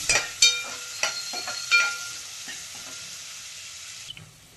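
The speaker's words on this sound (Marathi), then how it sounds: "आता इथे एक मोठा कांदा मी बारीक चिरून घेतलेला आहे, ते टाकून आपल्याला परतून घ्यायचे" Finely chopped onion sautéing in hot oil, with a few sharp spoon clacks and stirring scrapes over a soft sizzle that fades toward the end.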